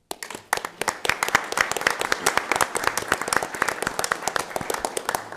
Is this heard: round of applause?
yes